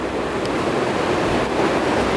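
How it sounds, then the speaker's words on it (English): Strong, gusty wind roars steadily outdoors at Porcupine Mountains State Park, a broad rushing noise buffeting the microphone, with a surf-like wash beneath it. "It is still pretty windy out here, but it's on and off."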